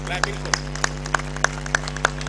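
Audience clapping for a student at an award ceremony, a slow regular beat of about eight sharp claps over a steady low hum.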